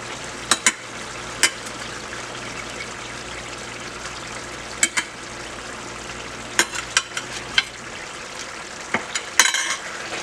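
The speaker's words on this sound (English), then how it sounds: "My catfish is frying down" Catfish frying in a pan on a home stove, a steady soft sizzle running throughout with scattered sharp pops and crackles, close and alone with no talking.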